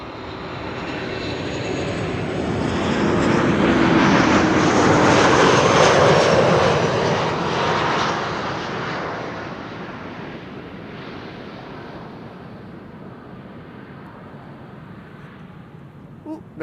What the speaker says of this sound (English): This is KLM flight 1772, arriving from Berlin